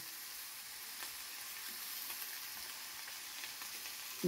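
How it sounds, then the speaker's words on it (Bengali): Drumstick flowers fry in a pan with a soft, steady sizzle, quiet and continuous with faint stirring, ending in a brief louder clatter. "এই সজনে ফুলগুলো আমি এখন দিয়ে দেবো মধ্যে।"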